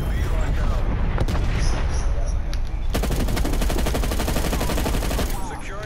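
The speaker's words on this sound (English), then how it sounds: "I'm gonna call this artillery in." Artillery strike in Call of Duty Cold War on the Cartel map: heavy booms and rapid gunfire give way to a dense, rattling barrage of repeated explosions, loud and continuous, with voices talking over it.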